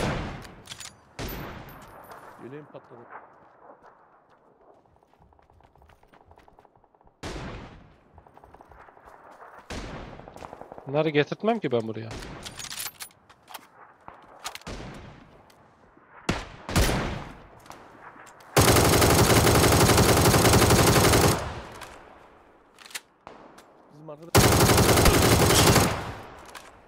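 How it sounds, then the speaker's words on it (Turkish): Bursts of PUBG video game gunfire, scattered single shots and two long, loud sustained volleys, with someone talking between them. "Soldan sıkıyorlar dışarıdan."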